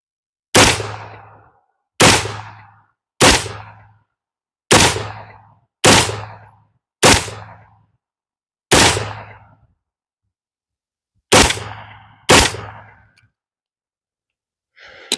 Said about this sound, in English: I'm going to take a shot at that eggplant, and then I'm going to get that watermelon that tried to run away from me